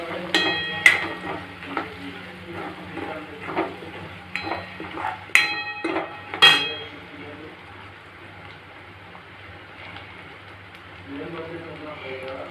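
Green chillies with turmeric sautéed and stirred in a pan for a Khandeshi recipe: soft sizzling and a few sharp metallic clinks of a spoon scraping the pan, under a steady hum while someone talks.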